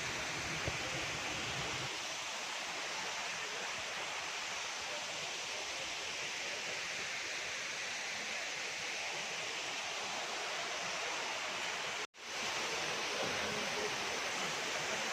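A waterfall with low water flow gives a steady, broad rush of falling water that fills the air. It cuts out briefly for a moment near the end.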